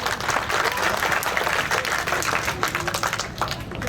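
A crowd at a Bhavnagar civic works ceremony applauds the mayor with thick, continuous clapping, loud and close, tapering slightly toward the end.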